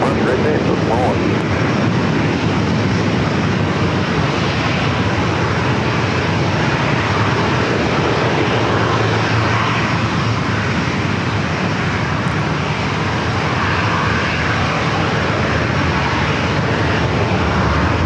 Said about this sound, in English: coming in from Chicago O'Hare, flight 2683 on the 737-900ER